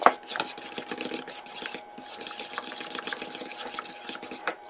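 Melted butter being stirred into mashed overripe bananas in a bowl, giving a steady scraping, rubbing texture with repeated soft utensil strokes against the bowl, close and moderately quiet with no talking.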